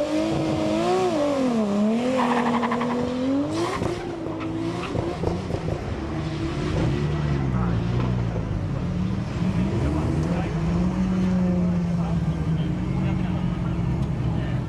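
A red Toyota Supra at a 2001 HKS street drag event at T.I. Circuit Central revs and accelerates hard on Nitto 555R tires, engine pitch rising and falling through shifts, with a narrator talking over it.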